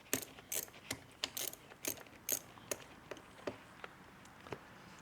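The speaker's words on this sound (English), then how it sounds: "Just unscrewing them with the socket was the way I could get my fingers on them." A socket wrench ratcheting while unscrewing bolts on a Cadillac seat gearbox: a steady series of about a dozen crisp clicking ratchet strokes, close and fairly quiet, with no talk.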